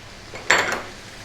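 A metal spoon scrapes and knocks against a pan while turmeric, chili, cumin and coriander are stirred into garlic paste for a rohu fish curry. Two short clattering strokes sound close, with quiet around them.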